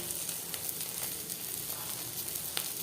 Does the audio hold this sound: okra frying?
yes